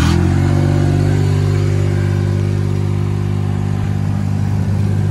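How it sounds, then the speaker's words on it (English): Kubota engine of a JLG 330 CRT scissor lift running just after starting, a loud, steady low-pitched diesel drone at idle, close up and continuous with no talking. "Does have that Kubota motor."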